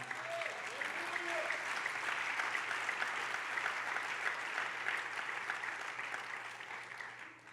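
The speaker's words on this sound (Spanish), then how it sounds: "Dele palmas al Señor." A church congregation claps for the Lord during a sermon, dense sustained applause from many hands that holds steady for several seconds before tapering slightly at the end.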